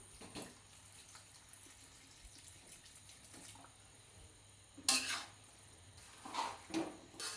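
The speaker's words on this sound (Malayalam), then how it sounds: "കുറച്ച് വിനാഗിരി ഒഴിക്കാം" Vinegar poured into homemade mango pickle: brief liquid splashes arrive in two or three short bursts against a quiet kitchen background.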